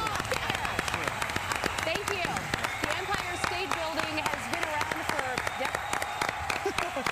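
Several people clapping in rapid, uneven bursts, sharp close claps repeating steadily over a busy background with voices and speech running underneath.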